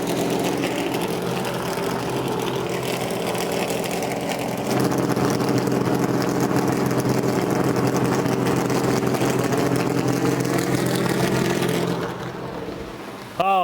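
A NASCAR Cup car engine running in the garage at New Hampshire Motor Speedway in 2013, a steady droning rumble that rises a step midway, holds, then eases down near the end.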